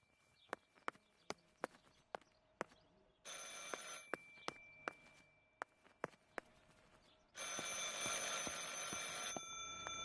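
A telephone rings in two long electronic bursts, close and fairly loud, over a quiet room with sharp ticking clicks throughout.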